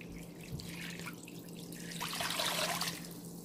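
Water pours into a cooking pot holding raw meat at the start of a pulao, a steady splashing trickle that swells louder in the final second, with no voices.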